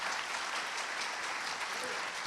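A conference audience applauds, dense sustained clapping from a full room that continues evenly throughout without pause.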